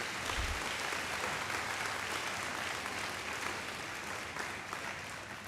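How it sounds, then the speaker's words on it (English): Audience at a high school athletic awards ceremony giving a round of applause to a group of athletes, a sustained, fairly distant-sounding clapping that stays steady, easing slightly toward the end. "If you can give another round of applause to this great group of guys right here"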